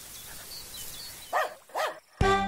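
A dog barks twice in quick succession, close and fairly loud, then a sharper third bark, over a quiet background with faint birdlike chirps.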